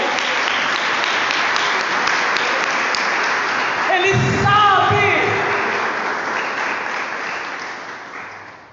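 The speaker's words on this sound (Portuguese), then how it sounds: "Eu quero aplaudir ao Senhor porque Ele é bom." A Brazilian Pentecostal congregation at a worship service claps steadily for several seconds, a continuous wash of applause swelling midway as a voice speaks over it, then slowly fading.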